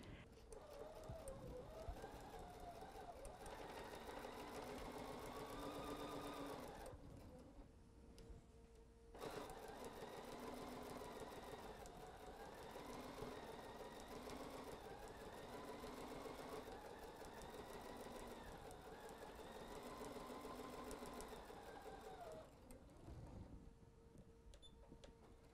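A sewing machine runs steadily, stitching a half-inch seam allowance on a quilt-as-you-go pillow cover, with a brief pause midway before the motor hums on again close by.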